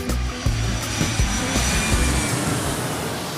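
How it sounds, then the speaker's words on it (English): An airplane taking off, a loud continuous engine roar with rumbling low end and a few knocks and thumps, alone without voices. "as part one of Shukura's round trip story gets ready for takeoff."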